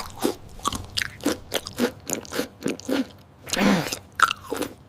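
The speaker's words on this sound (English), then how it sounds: "When you chew, you make the food easier to swallow." Food being bitten and chewed close up, a steady run of about a dozen crunchy bites and chews in a regular rhythm, clear and alone with no talking.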